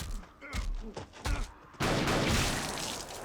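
Voices talk briefly, then a sudden burst of rapid gunshots erupts from a TV episode and keeps rattling loudly to the end.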